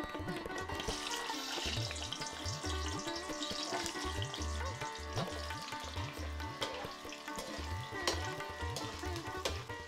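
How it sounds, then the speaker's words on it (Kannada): Drumstick (moringa) pieces fry in half a kilo of hot sesame oil, giving a steady bubbling sizzle that runs throughout under a rhythmic background beat. "ಈಗ ಎಣ್ಣೆ ಕಾದಿದೆ. ನಾನು ನುಗ್ಗೆಕಾಯಿನ ಇವು ಸ್ವಲ್ಪ ಹಾಕಿ ಕರಿತೀನಿ ನಾವು."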